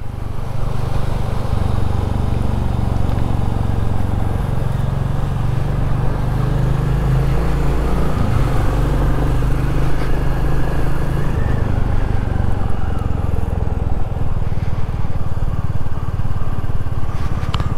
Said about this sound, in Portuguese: O escapamento dá um ronco legal nessa moto.